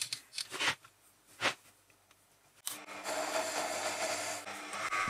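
A lathe tool cuts a thread in metal while a boring head arbor is made for a Proxxon FF 230 milling machine: a few soft scraping strokes first, then a steady, fairly quiet hissing cut that runs to the end.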